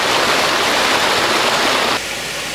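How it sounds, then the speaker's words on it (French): Water pours steadily over a cascade and waterfall back into a natural swimming pond. It makes a dense, continuous rushing wash that drops to a softer, duller flow for the last half second. "L'eau est par la suite retournée à l'étang par le biais d'une cascade et d'une chute d'eau."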